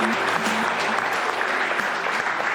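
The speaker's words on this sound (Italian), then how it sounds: "Allora un applauso anche al mister." Audience applause for the coach of the Lavagnese football club during a sports broadcast, a steady, dense wash of clapping that stays loud and even throughout, with a few voices faintly mixed in.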